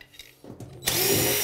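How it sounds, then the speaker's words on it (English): A power drill spins up to remove bathtub overflow screws, with a few faint clicks and a quick whir leading into a loud, steady motor whine up close. "we want to remove the overflow in the waste now. Usually just one or two screws here."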